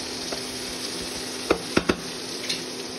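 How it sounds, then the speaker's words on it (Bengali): Onions fry in a pan for a fish-egg curry, a soft steady sizzle with a few sharp clinks and scrapes from stirring partway through. "আমার পেঁয়াজটা প্রায় ভাজা হয়ে এসেছে, একটু ধৈর্য নিয়ে ভাজতে হবে পেঁয়াজটা"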